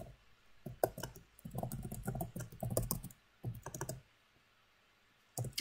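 Someone types on a computer keyboard in short bursts of quick, close clicking keystrokes separated by brief pauses, faint and with no talking.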